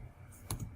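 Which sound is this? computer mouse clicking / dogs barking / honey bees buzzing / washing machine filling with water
computer mouse clicking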